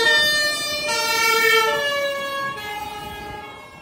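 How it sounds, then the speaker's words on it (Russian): A fire truck siren wails loudly in a rising and falling sweep along a street closed off for a marathon. It sounds fairly close and gradually fades slightly toward the end, with no talking over it. "Она так орёт, эта пожарная."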